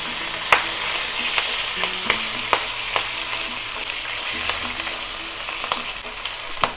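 Trout wrapped in bamboo leaves fries in hot oil with a steady, close sizzle and crackle, punctuated by occasional sharp pops, with no one talking.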